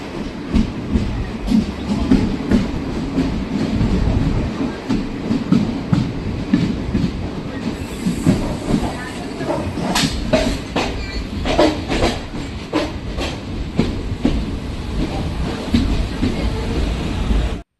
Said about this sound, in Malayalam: നമ്മുടെ ട്രെയിൻ അങ്ങനെ ഒറ്റപ്പാലം റെയിൽവേ സ്റ്റേഷനിൽ ഇപ്പോൾ വീണ്ടും പുറപ്പെട്ടിരിക്കുകയാണ്